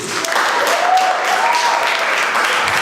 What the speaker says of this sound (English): So a little round of applause for Rafe, Gareth, myself, and Robbie.